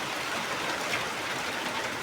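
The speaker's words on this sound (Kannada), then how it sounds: "ಮಳೆ ಭಾಳ ಜೋರು ಬಂತು" Heavy rain pouring down, an even, dense broadband roar that holds steady without a break for the whole short stretch, with no voices over it.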